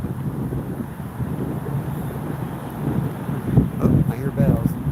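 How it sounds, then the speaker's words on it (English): Wind roars steadily across the microphone on a riverbank, swelling into a stronger gust near the end, with faint water and boat sounds underneath. "Big gust of wind coming through."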